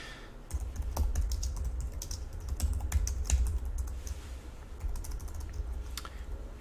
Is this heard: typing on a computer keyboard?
yes